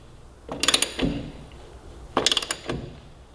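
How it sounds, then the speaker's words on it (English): A ratchet wrench tightens the rear axle nut on a Kawasaki Ninja 400, two bursts of quick close clicks about a second and a half apart, each with a brief metallic scrape. "tightening the rear axle down"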